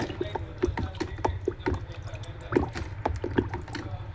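Water being shaken inside a pouch to dilute a cleaning solution during a water ioniser service, giving a rapid series of wet sloshes and splashes at close range.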